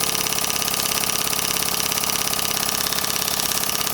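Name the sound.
small governor-controlled model steam engine running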